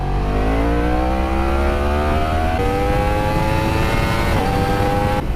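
A 2016 Yamaha R1 sport motorcycle engine revs hard under sharp throttle, its rising harmonic whine climbing steadily and loud and close throughout, with no talking.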